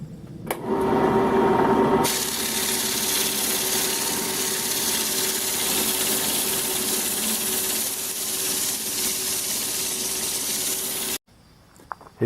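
A power sander grinds steadily along a wooden baseball bat with 40-grit paper, loud and continuous for about nine seconds after a short quieter start, then cutting off abruptly.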